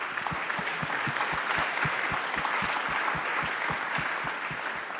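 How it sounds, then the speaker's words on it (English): An audience applauds a panel at the close of a talk on labor, population and economic growth, steady dense clapping with distinct individual claps rising over a continuous wash, sustained at even loudness throughout. "join me in a round of applause to thank them"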